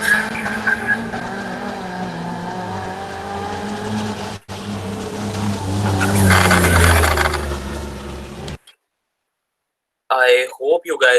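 A car speeds past at a motorsport event, its engine note rising loud and close and then falling away within a few seconds, followed by a brief silence and then voices.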